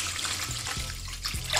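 Water pours into a bowl of chicken brine with pickle juice and apple cider vinegar, a close, soft continuous trickle and splash with a few small bumps.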